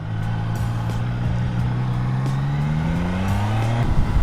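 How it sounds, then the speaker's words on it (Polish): A classic retro car's engine drones loudly and steadily up close in the Czech Republic, its pitch slowly climbing, with constant road noise underneath. "dużo tutaj w Czechach jeździ takich klasycznych retro samochodów"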